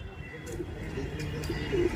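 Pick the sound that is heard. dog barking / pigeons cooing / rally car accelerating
pigeons cooing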